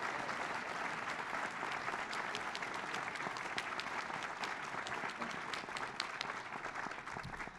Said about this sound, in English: please join me in a prolonged round of applause